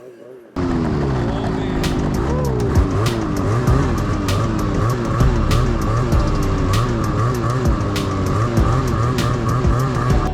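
Yamaha YXZ1000R side-by-side on lake ice, its engine revving up and down in repeated rising and falling sweeps, loud and close, with sharp clicks and crackles over the running motor.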